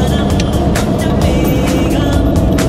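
A car interior rumbles steadily with engine and road noise on a rainy day's drive out of Chennai toward Pune, loud and continuous with faint clicks above.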